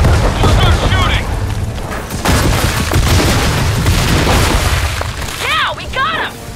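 Booming explosions and gunfire in Gears of War 4 roll under loud battle ambience, deep and continuous, with brief chirping game effects near the end.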